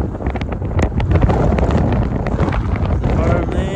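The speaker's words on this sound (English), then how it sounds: "awfully windy right now" Strong wind buffets the microphone on an open farm hilltop, a loud continuous roar with gusty swells throughout, and a voice speaks faintly beneath it.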